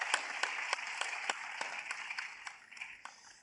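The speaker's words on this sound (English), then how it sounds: "A round of applause, Mr." Audience applause greeting Mr. Christian Yoka, Director of the Africa Department at the French Development Agency, as he is invited on stage at the Afreximbank Annual Meetings; a steady round of clapping that slowly fades out.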